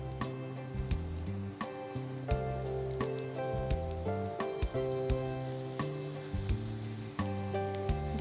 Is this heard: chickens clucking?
no